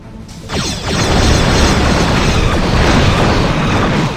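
Dummy Mark IV torpedoes strike ships in the space combat game Star Trek Bridge Commander, a loud, continuous roar of explosive rumble and crackling bursts that swells in after a brief quiet start and holds steady.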